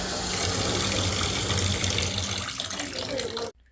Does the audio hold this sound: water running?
yes